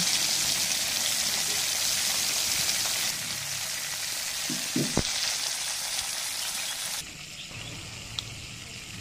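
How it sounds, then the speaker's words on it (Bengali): Marinated hilsa fish pieces fry in hot oil for a mustard hilsa dish, giving a steady, fairly loud sizzle throughout with a couple of brief clinks near the middle and no voices. "ওইদিকে আমাদের মাছ ভাজার প্রসেস চলতেছে"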